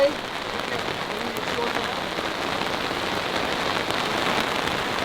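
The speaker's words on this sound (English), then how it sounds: "Just as the rain picks up." Heavy rain pours down on a mountain 4x4 trail in Colorado, a steady dense hiss of drops drumming on surfaces throughout, loud and even, with no pauses.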